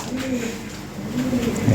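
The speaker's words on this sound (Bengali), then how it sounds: "এটা টপ কোয়ালিটি কবুতর" Lahori pigeons, a top-quality American 2020 bloodline breeding pair, coo in low, soft murmurs that rise slightly louder toward the end of a brief stretch.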